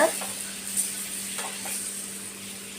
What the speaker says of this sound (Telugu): ఇప్పుడు కూర ఉడుకుతుంది